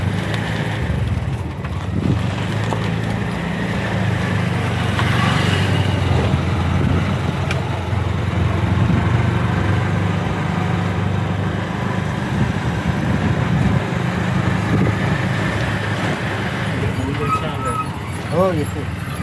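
An auto rickshaw rides along a potholed village road with its small engine droning steadily throughout, a low rattling rumble that stays loud from start to finish while people talk over it.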